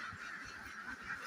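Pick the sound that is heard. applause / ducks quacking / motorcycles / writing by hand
ducks quacking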